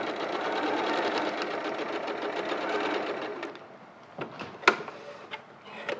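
A sewing machine chain-piecing fabric pieces runs in a steady rapid whir for about three seconds, then stops, followed by a few soft clicks and handling knocks of the fabric.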